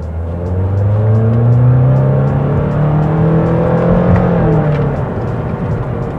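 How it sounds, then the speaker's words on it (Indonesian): A 2014 Honda Odyssey RC1 with a CVT accelerates hard in first gear in S mode, its engine drone rising steadily in pitch, loud and close from inside the cabin, then easing slightly near the end. "nih kita tarik nih ya. Gigi 1, mode S, Pol."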